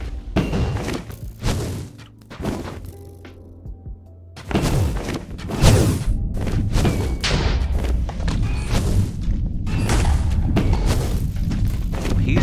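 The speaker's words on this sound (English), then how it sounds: "He's shooting a lot of orbs." Chaos Dragon boss in a video game firing a barrage of orbs, heavy repeated booming thuds in rapid bursts, loud and close, with brief lulls between volleys.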